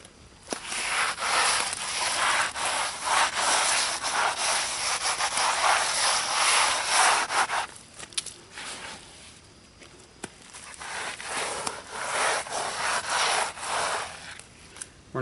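A gloved hand rubs a cement scratch coat into concrete blocks on an outdoor fireplace, giving a steady, close, gritty scraping that eases off partway through before the rubbing resumes, with no talking.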